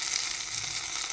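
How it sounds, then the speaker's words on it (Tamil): Mustard seeds sizzle and crackle steadily in hot oil up close, a dense frying hiss with no voices. "இப்போ தாளிச்சிடலாம்"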